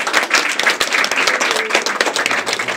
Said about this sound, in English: so I think we should give them a round of applause.